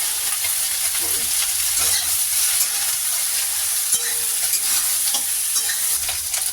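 Cut potatoes and eggplant fry in a hot oiled pan, giving a continuous crackling sizzle broken by the scrape and clatter of a spoon stirring, with no talking.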